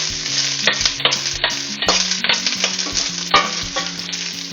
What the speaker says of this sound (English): Put in the cabbage. Get a sizzle effect.